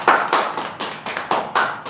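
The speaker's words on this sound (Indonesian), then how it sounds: "kasih tepuk tangan dulu." Classroom applause during a microteaching physics lesson: a short burst of about seven quick, rhythmic claps from a small group of hands, close and fairly loud, with no talking.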